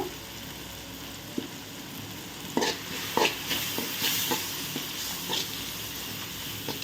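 Masala with chili and turmeric powder frying in a pan, a soft steady sizzle with a few scraping stirs and clinks from a spatula near the middle, fairly quiet throughout.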